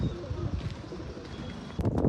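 Pigeons inside a coop coo in low, soft murmurs close by, with a brief rustle of movement near the end.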